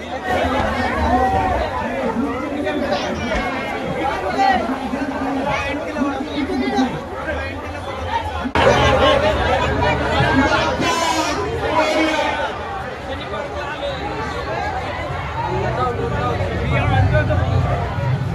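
Dense crowd chatter fills a busy Ganpati pandal in Pune during Ganeshotsav, a steady, close hubbub of many overlapping voices with no single speaker standing out.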